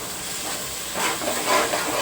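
Tomato paste sizzling and hissing as it hits hot oil in a pan of mutton curry, a steady close crackle that swells louder about halfway through, with no talking.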